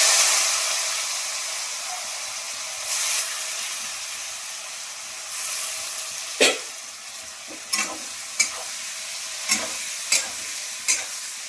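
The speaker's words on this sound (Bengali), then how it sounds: "এবার পেঁয়াজগুলো একটু ভেজে নিই।" Thinly sliced onions sizzle and hiss steadily in a hot pan where chillies were already fried, with a spoon stirring and scraping the metal in several sharp clinks near the end.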